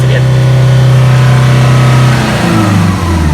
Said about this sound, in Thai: เปิดคันเร่งร้อยเปอร์เซ็นต์แล้วนะครับ